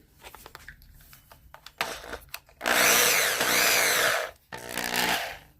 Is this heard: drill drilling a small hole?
yes